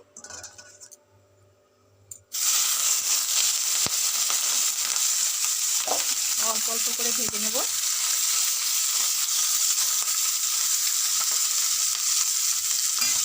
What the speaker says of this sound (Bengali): দেখো মাছ ভাজা হচ্ছে আর এটাও ভাজা চলছে